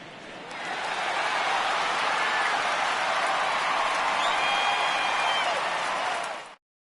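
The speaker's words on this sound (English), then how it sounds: "he receives a nice ovation from this home crowd" A home crowd in a PS4 baseball video game gives a loud ovation as a departing pitcher leaves, a steady wash of cheering and applause that holds for about six seconds before cutting off abruptly.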